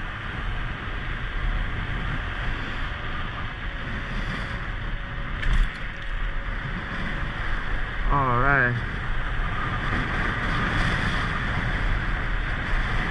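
Steady wind roars and buffets against the microphone in a broad, constant rush on a chilly day while riding an Apollo Ghost electric scooter, with a brief spoken remark and a short chirping sound partway through.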